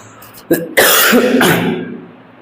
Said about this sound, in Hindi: खांसी बहुत ज्यादा आने लगती है लगातार बोलने से।